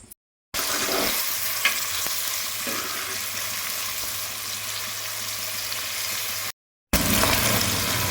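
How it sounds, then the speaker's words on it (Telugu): Broad beans fry in hot peanut oil in a pan, giving a steady, close, fairly loud sizzle with occasional stirring scrapes, with no talking over it. "నూనె వేడెక్కింది ఇప్పుడు చిక్కుడుకాయలు వేసుకుందాం"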